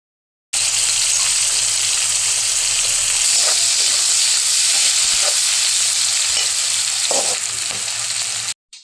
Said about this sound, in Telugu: ఇదే ఆయిల్లో కొంచెం ఆయిల్ యాడ్ చేసుకొని ఆనియన్స్, స్ప్రింగ్ ఆనియన్స్, పచ్చిమిర్చి యాడ్ చేసుకోవాలండి